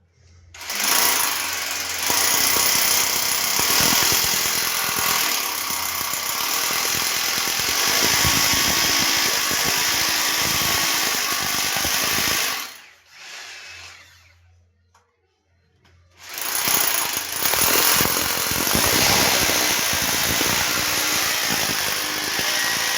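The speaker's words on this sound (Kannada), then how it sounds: "ಇವಾಗ 2 ಹೋಲ್ ಮಾಡ್ಕೊಂಡೆ." An electric drill bores two holes into a wall for an electric geyser installation: two long, loud, grinding whirs, separated by a brief pause before the second hole.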